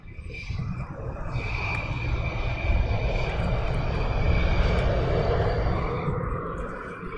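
A military jet passes at RAF Lakenheath airfield, a broad engine roar swelling steadily and holding before fading slightly, heard at a distance with no talk.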